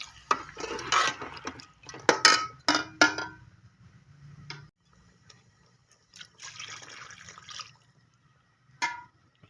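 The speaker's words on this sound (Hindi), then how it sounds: "अब मैं इस टाइम पे इसमें पानी ऐड करूँगी" Water is poured into a pot of browned chicken feet curry, with a few sloshing bursts and clinks of a metal utensil against the pot, followed by quieter stirring and a final clatter.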